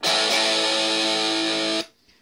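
A sustained electric guitar chord through a Squier practice amp's overdrive rings out loud and buzzy, then cuts off abruptly into near silence.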